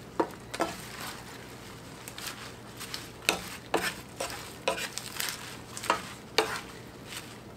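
Spinach wilts in a pan under a faint background sizzle, while a spoon knocks and scrapes in quick irregular strokes as the greens are stirred in.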